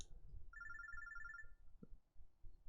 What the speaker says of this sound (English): my phone droid begins to ring